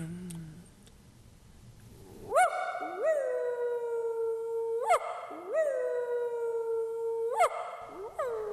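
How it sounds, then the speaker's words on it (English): A dog howls in repeated drawn-out, rising-then-falling cries, four long howls in sequence, close and clear over a quiet background. "Oh, that's just a dog."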